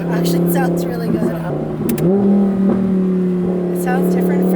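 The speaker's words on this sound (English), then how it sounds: "right now, when you're just cruising, you hear this little like low growl" Low growl from an Audi R8 fitted with an aftermarket exhaust, steady and close while cruising, its pitch rising slightly partway through, with people talking over it.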